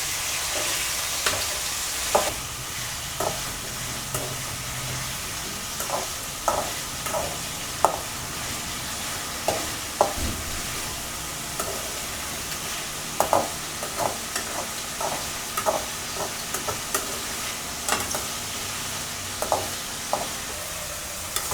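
Tomatoes sizzle and fry in hot oil for a Chettinad fish gravy, a steady crackling hiss punctuated by repeated scraping and tapping of a spoon stirring the pan, close and moderately quiet.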